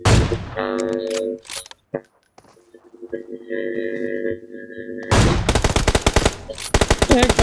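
Bursts of rapid automatic gunfire in the mobile battle royale game PUBG Mobile, loud and close, erupting after a stretch of quieter game tones and sounds, with a voice heard faintly at times.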